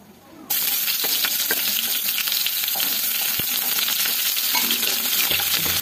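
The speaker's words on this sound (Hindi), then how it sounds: "तो आप देख सकते हैं तेल भी गर्म हो गया, तो मैं इसमें अभी प्याज डालूंगी।" Chopped onions hit hot cooking oil in a home kitchen pan, setting off a sudden loud, steady sizzle that fills the rest of the clip, with small clinks from stirring and no talking.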